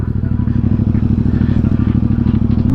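A Ducati Diavel 1260S motorcycle on an Agra road, its engine a loud, steady rumble with rapid throbbing pulses and faint clatter, no talk over it.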